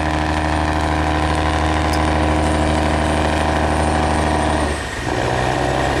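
A Cummins diesel engine runs loud and steady aboard a barge stranded on the shore at Atraco, Tri Tôn, An Giang, with a dense drone and a brief dip in the rumble near the end.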